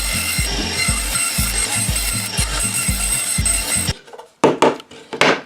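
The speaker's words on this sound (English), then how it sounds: "I'm going to cut them out of this so it kind of makes it cool" Thin luan plywood slats, under an eighth of an inch thick, cut with a rapid, rhythmic chattering saw for about four seconds at close range, followed by a few sharp knocks and clatters of the wood once the cutting stops.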